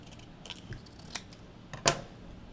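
Scissors cutting paper along creases for balloon rocket fins, a few faint separate snips with a sharper, louder cut near the end, close by in a quiet room.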